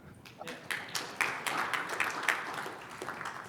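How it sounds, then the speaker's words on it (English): An audience at a construction innovation forum claps to welcome a speaker, with irregular, fairly sparse handclaps spread through the room at mid distance and a light murmur beneath. "You're allowed to clap, by the way"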